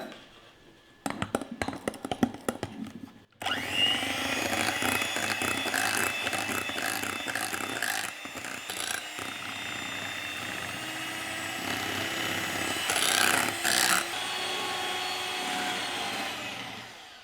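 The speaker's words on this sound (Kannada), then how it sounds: "ಇದನ್ನ ಎಲ್ಲಿವರೆಗೂ ಈ ರೀತಿ ಬ್ಲೆಂಡ್ ಮಾಡಬೇಕು ಅಂದರೆ ಅದು ಕ್ರೀಮಿ ಟೆಕ್ಸ್ಚರ್ ಬರಬೇಕು" An electric blender whirs loudly while blending a homemade chocolate ice cream mixture, a few short pulses first, then a long sustained run with shifting motor pitch.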